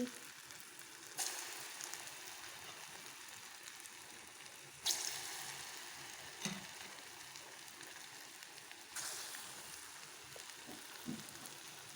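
Banana fritters fry gently in oil over a low flame, a soft, steady sizzle with a few brief crackles and pops, fairly faint and without talk.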